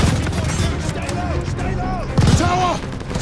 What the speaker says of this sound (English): Suppress that MG! I'm loading on the MG!